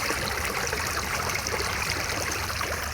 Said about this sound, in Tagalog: Malakas yung daloy ng tubig guys